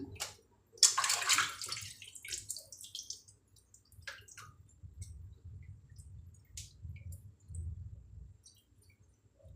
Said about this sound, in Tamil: அதுக்கு பிறகு 2 தண்ணி நல்லா கழுவி எடுக்கணும்